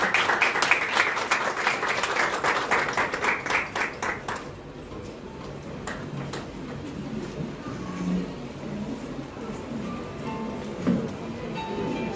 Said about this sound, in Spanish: Démosles la bienvenida con un fuerte aplauso